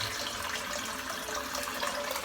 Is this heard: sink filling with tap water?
yes